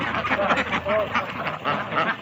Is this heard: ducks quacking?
yes